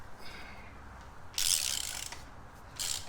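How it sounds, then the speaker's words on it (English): A ratchet loosens a bolt while motorcycle frame sliders are installed, giving two bursts of close, rapid clicking, the first longer and the second brief. "we're going to loosen up the bolt on the left side"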